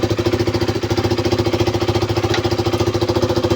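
A KTM Duke 200 motorcycle, fitted with a replacement fuel pump, runs close by with a loud, rapid, evenly pulsing single-cylinder chug that stays steady throughout with no talk over it.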